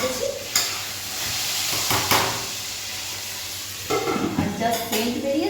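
Curry leaves and potatoes frying in oil in a pan for sambar, with steady sizzling and spitting throughout and a few sharp stirring or utensil clatters against the pan.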